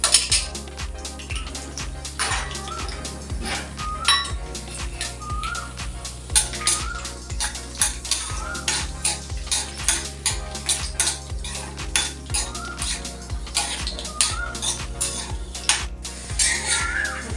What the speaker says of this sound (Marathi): थोडंसं गॅस कमी करते आणि शेंगदाणे थोडे परतून घेते.